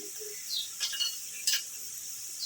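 Garlic tadka for kadhi pakora fries in hot oil, a faint, steady sizzle with a couple of brief louder crackles and a light metallic stir partway through.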